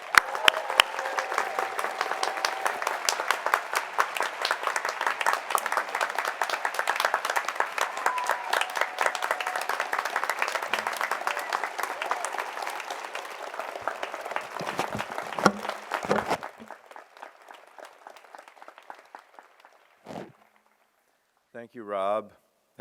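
An audience at an alumni weekend collection address breaks into loud, sustained applause as speaker Richard Sager is welcomed. The dense clapping lasts about sixteen seconds, then thins to a few scattered claps before falling quiet.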